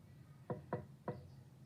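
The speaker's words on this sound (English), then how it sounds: "Mr. Cream heard a quiet little knock at the front door." Three quiet knocks sound on a front door, two close together and then a third after a short pause, soft and hollow against a hushed background.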